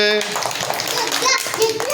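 Schoolchildren at a government school clap their hands together in a quick, dense burst of applause, heard close by with children's voices talking over it.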